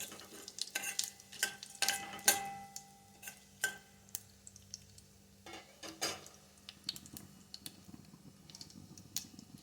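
Whole spices and asafoetida crackle in hot oil as a tempering for a mango seed curry, with close, sharp sizzling pops and stirring clicks scattered irregularly over a faint, steady frying hiss.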